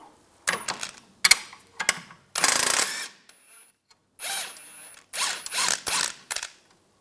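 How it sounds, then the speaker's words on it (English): A 16mm socket ratchet loosening the lower rear shock bolt on a 1998-2010 Volkswagen Beetle: close, loud bursts of rapid ratcheting clicks separated by short pauses. "Using a 16mm wrench and a 16mm socket, we're going to take the lower shock bolt out."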